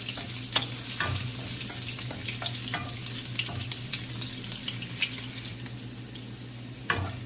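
Garlic sizzles and fries steadily in hot cooking oil in a home kitchen pan, a continuous crackling hiss with scattered pops and a few brief stirring scrapes, close and fairly loud.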